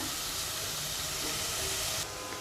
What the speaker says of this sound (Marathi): आता हा कांदा थोडा नरम होईपर्यंत आपण परतून घेऊया